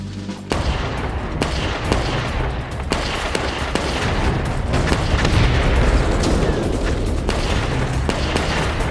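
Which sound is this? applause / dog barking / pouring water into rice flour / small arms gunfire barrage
small arms gunfire barrage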